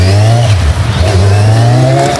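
A motorbike engine revs hard and loud throughout a ride, a steady strong drone with slight pitch shifts, close to the rider and with no talking.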